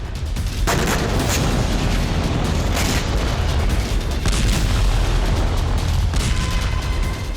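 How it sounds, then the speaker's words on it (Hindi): Russian missiles striking Kyiv in a densely populated district of tall buildings, heard as a dense, loud roar of blasts and booming impacts with sharp cracks at intervals, sustained throughout without any talk. "रूसी मिसाइलें कीव के उन इलाकों में गिर रही थीं जहां ऊंची ऊंची इमारतें हैं।"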